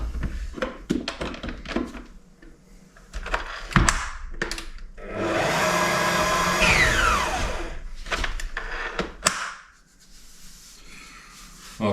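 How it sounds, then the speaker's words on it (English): Croissant dough being mixed by hand in a bowl: scattered knocks and thuds, then a sustained scraping, churning stretch in the middle before more bumps, no talking. "Now we're going to mix it all up."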